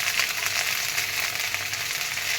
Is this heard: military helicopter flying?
no